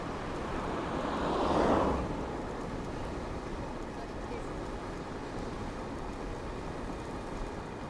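Steady outdoor wind rumbling across the microphone on a ride along a road after rain, with a brief stronger gust early on and a constant broadband roar throughout.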